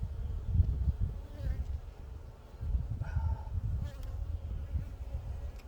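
Bees buzz around a first-time beekeeper, a low droning hum that swells and fades as insects pass near and away, continuous over faint background noise.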